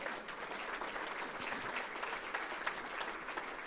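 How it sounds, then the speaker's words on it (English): Audience applause at a regional business event, steady broadband clapping from a large crowd, fairly distant and even throughout with no talking over it. "You can give him another round of applause"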